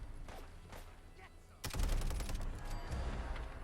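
Rapid automatic fire from a PP19 Bizon submachine gun in Fallout 4, a loud sustained burst of closely spaced shots starting abruptly and continuing to the end after a quieter opening.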